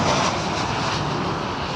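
A WestJet Boeing 737-700 jet at Toronto Pearson airport produces a steady, loud, broadband engine roar that holds constant throughout.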